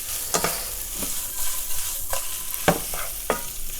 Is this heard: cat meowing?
no